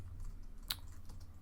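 Light typing on a computer keyboard while writing a script, a faint patter of soft key clicks with one sharper tap, quiet and close with no talking.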